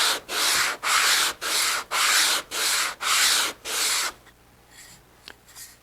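Wood segments for segmented woodturning are sanded to knock down high spots, in seven even, loud rasping strokes with short gaps between them, then a quieter stretch of faint scrapes.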